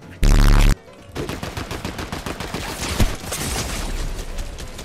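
Gunfire in the Fortnite video game: a sharp, loud burst of shots opens the moment, followed by a steady rattle of rapid firing and battle noise that keeps going to the end.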